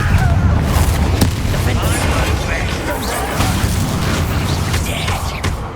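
The Confringo spell exploding in Hogwarts Legacy, a loud, dense burst of booming blast noise that rumbles and crackles for several seconds, filling the sound up close.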